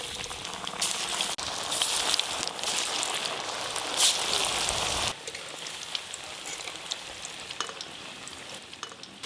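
Fish and chicken pakora frying in hot oil, a steady dense sizzle with bubbling crackle throughout that drops somewhat quieter halfway through, no voices.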